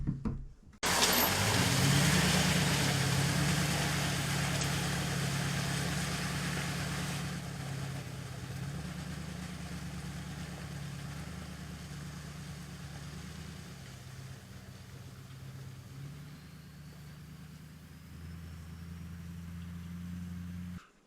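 A pickup truck rumbles past a trail camera, a steady low engine drone with a faint rise in revs, holding fairly loud and close for about twenty seconds with no talking.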